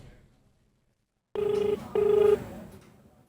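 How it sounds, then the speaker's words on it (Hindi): An outgoing mobile phone call rings: after a near-silent start, two clear, steady ringback tone bursts sound in sequence, then fade into faint background. "बेल जा रही है।"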